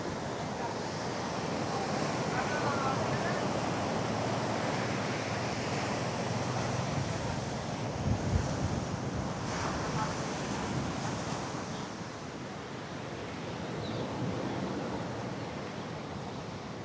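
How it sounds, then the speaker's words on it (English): Ocean surf washes steadily at Cigar Beach on Lombok, a broad, continuous rumble of waves mixed with gusting wind noise on the microphone, moderately loud and unbroken with no talking. "This is Cigar Beach."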